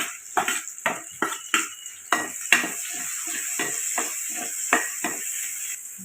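Onions and fennel seeds sautéing in a pan: a quiet sizzle broken by a series of sharp spoon scrapes and taps against the pan at an uneven pace, close and without voices.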